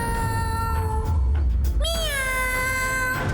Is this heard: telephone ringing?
no